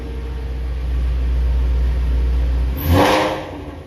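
A Whipple supercharged Shelby GT350 V8 idles with a steady low rumble in a home garage, then gives a single short throttle blip that rises sharply and falls back to idle.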